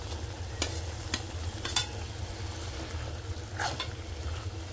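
Cooked fenugreek leaves and fried paneer pieces are stirred together in a pan, with a soft continuous sizzle under a low hum and a few sharp utensil clinks.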